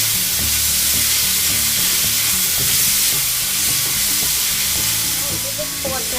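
Mutton cooks in a pan for a homemade mutton pasta, giving a steady, close sizzle and hiss with occasional stirring and low tonal sounds running underneath throughout.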